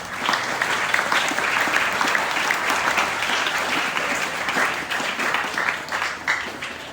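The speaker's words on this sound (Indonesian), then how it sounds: "Tepuk tangan untuk anak-anak." Students at a Ramadan school program at a Banyuwangi junior high get a round of applause: many hands clap steadily for about seven seconds, loud and sustained before easing slightly at the end.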